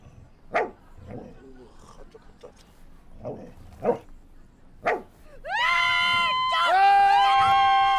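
A dog barks several times in sharp, separate bursts, fairly close, then gives way to a sustained tonal sound.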